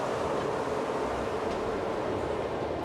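A Disneyland monorail train runs along its track, producing a loud, steady rumbling roar with no breaks.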